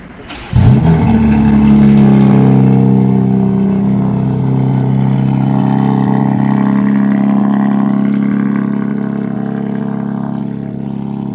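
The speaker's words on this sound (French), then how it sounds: "Le bruit de cette caisse, c'est une dinguerie." A powerful car on a Brussels street bursts into a sudden loud rev and accelerates hard, the engine roaring and then holding a deep, steady drone that slowly fades as it pulls away.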